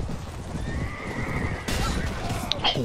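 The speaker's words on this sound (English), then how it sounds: "Starting with some horses." Horses whinny and hooves clip-clop in the video game Mount & Blade Warband at a Viking-town tournament, a loud neigh rising near the end amid busy game ambience.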